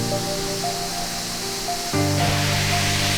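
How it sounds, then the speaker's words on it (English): Steady broadband rush of a waterfall on a secluded 4WD track in Litchfield, Northern Territory, Australia, continuous and fairly loud, swelling louder partway through with a faint tonal hum underneath. "Look at that waterfall."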